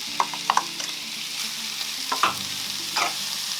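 Chopped capsicum is stirred in a frying pan while cooking macaroni and cheese, a steady sizzle under a few sharp utensil clinks and scrapes, close and clear with no voices.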